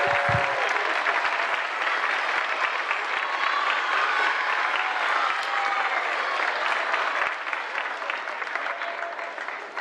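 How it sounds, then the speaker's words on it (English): Parents at the close of a middle school winter concert give a loud, continuous standing ovation, dense clapping and some cheering that hold steady for about ten seconds before easing slightly. "ask you guys to stand up for your last round of applause"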